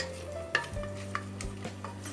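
Cinnamon, cardamom, cloves, kalpasi and bay leaves crackle in hot oil in a pressure cooker for chicken biryani, a quiet close sizzle broken by a few light stirring scrapes.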